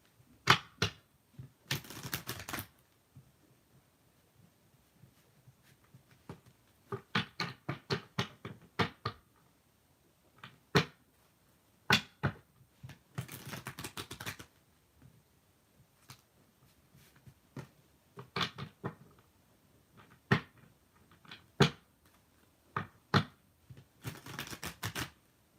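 Tarot cards are shuffled by hand in scattered bursts of crisp riffling and slapping, with quiet gaps in between, close and fairly soft.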